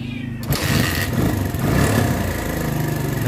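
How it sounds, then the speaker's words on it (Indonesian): A Suzuki Thunder motorcycle running without a battery starts with a sharp burst, then settles into a close, steady, pulsing idle. "Ternyata motor Thunder tanpa aki atau tanpa baterai, motor ini gampang hidupnya ya."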